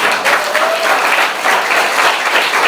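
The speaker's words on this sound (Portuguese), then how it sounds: "Pode aplaudir o seu irmão." A church congregation claps loudly and steadily, a close, dense burst of applause that holds evenly for a few seconds.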